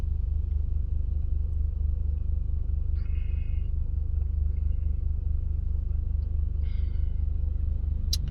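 Low, steady engine rumble fills the inside of a car throughout, with faint brief rattles or clicks over the hum and no talk.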